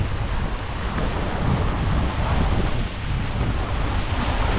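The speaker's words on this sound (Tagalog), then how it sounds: "Ang lakas ng hangin, no?" Strong wind roars steadily across the microphone with the rush of surf beneath it, a constant loud wash of noise and no voices.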